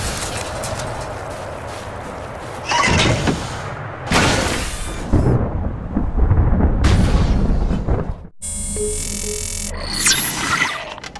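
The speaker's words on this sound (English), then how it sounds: "Just sitting out another storm here." Thunder from a storm on an icy alien world in the game Lost Planet 3 rolls and cracks in several heavy bursts, loud and close, over a steady roar of wind and weather, with no voices.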